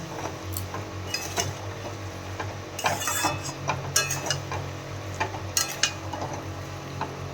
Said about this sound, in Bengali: এবার আলুটা দিয়ে ভালো করে তোমার কষিয়ে নেব মশলাটা দিয়ে